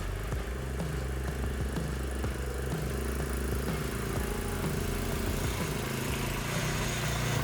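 A 2x2 ATV motorbike drives through a puddle, its engine holding a steady mid-pitched drone with faint splashing and rumble throughout, close and loud with no talk.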